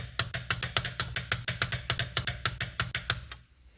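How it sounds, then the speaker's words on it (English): Torque wrench ratcheting on a tie rod nut of a 2006 Honda Civic, a rapid even run of about fifteen sharp ratchet clicks close by, then it stops abruptly. "Grab your torque wrench, set it to 80 foot-pounds or"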